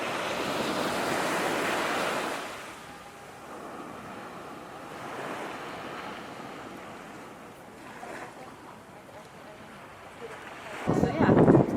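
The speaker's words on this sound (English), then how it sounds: "Here we are, it's the ocean." Ocean waves at Coney Island beach wash in with a broad, windy roar, loudest at first, then settling into softer surf with a fresh rush near the end. Wind buffets the microphone throughout.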